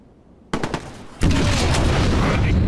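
Gunfire in the video game Watch Dogs: a sharp burst of shots, then a louder, sustained barrage of gunfire and explosive noise close by.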